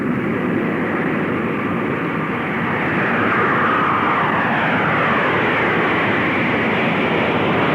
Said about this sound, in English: Captain Fitz Fulton and co-pilot Tom McMurtry will fly the carrier aircraft as chase planes help monitor the operation.